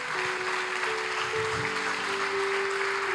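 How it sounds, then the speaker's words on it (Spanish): Congregation applauding at a Spanish-language church service, a steady dense wash of clapping throughout with a sustained organ-like tone beneath and faint voices mixed in. "Den un aplauso al Señor"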